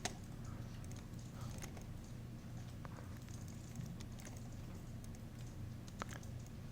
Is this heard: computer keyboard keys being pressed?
yes